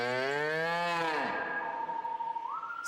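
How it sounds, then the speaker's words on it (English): A cartoon cow gives one long, loud moo that slides down in pitch, then settles into a steady tone that briefly rises near the end, alone with no talking. "I told you I heard a moo."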